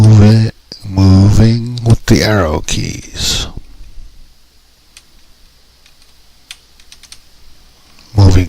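Arrow keys on a computer keyboard are pressed in a sparse series of light, faint clicks between stretches of someone talking, while an image is moved in GIMP.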